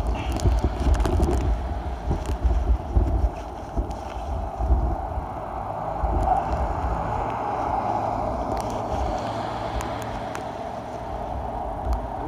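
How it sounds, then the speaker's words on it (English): Outdoors in Astoria, Oregon, strong wind and torrential blowing rain roar as steady broadband noise, with buffeting gusts hitting the microphone in loud low rumbles, heaviest early on. "It's full on blowing rain mode, like torrential downpour."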